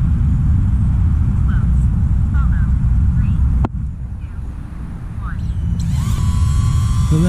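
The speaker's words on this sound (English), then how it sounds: "now the drone is following me." A DJI Neo drone flies hands-free behind its operator outdoors, giving a steady, loud broadband whir with gusting wind noise throughout and a brief dip partway.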